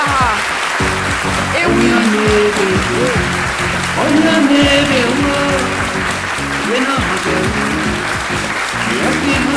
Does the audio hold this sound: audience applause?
yes